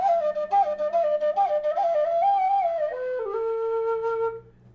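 A Burke Brass Viper low D whistle plays a quick, lightly tongued melody of clear breathy notes, close and alone, ending on a long held tone.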